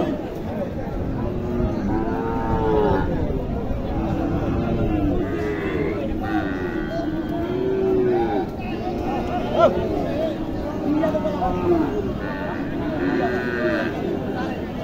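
Sahiwal cattle at the Mataji cow market in Naogaon, mooing and bellowing amid a busy crowd, with people talking over the steady calls of the animals.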